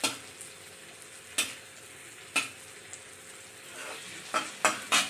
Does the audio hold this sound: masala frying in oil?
yes